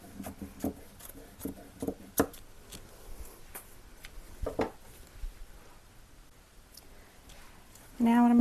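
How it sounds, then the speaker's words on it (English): Scissors cut through a drop cloth in sparse, uneven snips and rustles, fairly close and quiet, with a louder burst of sound at the end. "I am going to cut off the part where the seam is."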